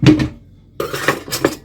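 Ingredients for a Hungarian pepper sauce being tipped into a cooking pot, with a few close metallic clanks and scraping knocks of containers and utensils against the pot in short bursts separated by a brief pause.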